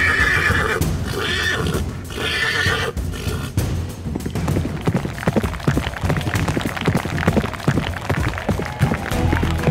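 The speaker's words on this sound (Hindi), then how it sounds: "देखो तो श्यामदा के इशारे पर घोड़ा कैसा दौड़ा जा रहा है।" Horse neighing and galloping in a Hindi horror audio drama: a loud whinny opens, followed by rapid, busy hoofbeats that continue steadily to the end, close and prominent with no talk over them.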